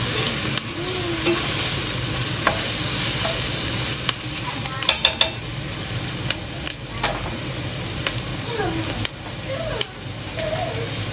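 Chopped onions fry and brown in a pan, giving a constant close sizzle with small crackles and spatters, while a spoon now and then stirs and scrapes across the bottom; nobody speaks.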